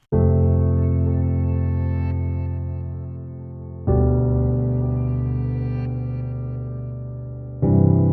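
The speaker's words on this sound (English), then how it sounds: "I'll give you a sample of the piano first" Sustained piano chords played from a sample inside Ableton, three struck chords ringing out with long decays, the second entering near four seconds and the third just before eight, clean and alone with no talk.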